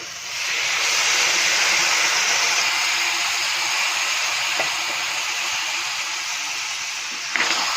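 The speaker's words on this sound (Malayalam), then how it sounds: "ഇനി ഇതിലേക്ക് നമുക്ക് 2ാം പാല് ചേർത്ത് കൊടുക്കാവേ" Thin second-extract coconut milk poured into a hot pan for fish molee sets off a loud, sustained sizzling hiss after a quiet start, easing slightly as it continues, with no talking.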